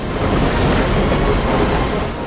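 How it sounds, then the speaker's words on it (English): A train rolls past in the Call of Duty video game, a loud continuous rumble with squealing wheels and a high metallic whine, with no talking. "that's one angry train."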